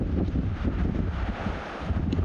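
Gusty wind buffets the microphone beside a mountain lake in the Eastern Sierras, a steady loud roar with rumbling swells throughout.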